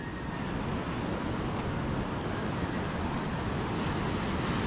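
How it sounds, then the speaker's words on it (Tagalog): Steady roar of ocean waves washing onto a shore in the morning, a continuous broadband wash with some wind noise, fairly loud and with no voices. "hampas ng alon"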